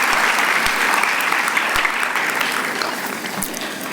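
Sustained audience applause at a live talk on motherhood, steady dense clapping filling the whole stretch without a break, loud and fairly close.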